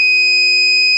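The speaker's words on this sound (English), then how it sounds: "This LED is indicating that something is going wrong, and this buzzer will generate an alarm." ATM gate security system buzzer sounds a loud, steady, high-pitched electronic alarm tone, continuous and unbroken, close by.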